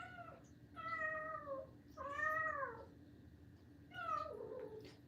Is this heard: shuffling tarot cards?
no